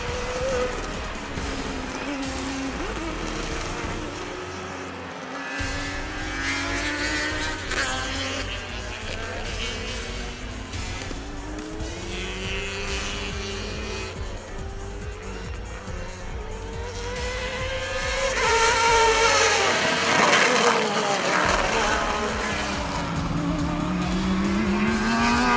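Race cars run at the Bushy Park circuit in Barbados, with engines droning and rising in pitch as they shift and pass, and a louder surge near the end.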